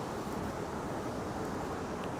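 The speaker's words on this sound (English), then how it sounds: "It's a pretty windy night in Manhattan." Wind on a cold, windy fall night in Midtown Manhattan, New York City, a steady broadband rush and buffeting that fills the whole moment at even level with no speech.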